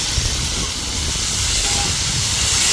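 In a village kitchen, hot oil tempering for pav bhaji gives off a loud, continuous hiss that holds steady and close from start to finish.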